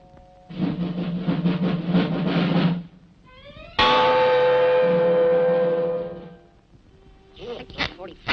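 Voices and background sound give way to a single bell strike with a rich, ringing tone that slowly decays over a couple of seconds.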